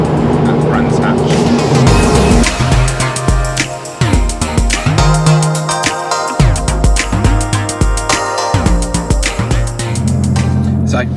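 Porsche 964 Turbo driving on the road toward Brands Hatch, engine note rising and falling through repeated gear changes, loud and close throughout with steady road rumble.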